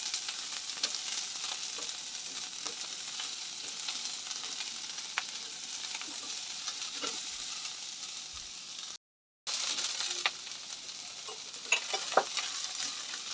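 Onion fries to golden in a pan for dum aloo while being stirred, a continuous bright sizzle with soft scraping strokes that cuts out for a moment before resuming, near and without speech.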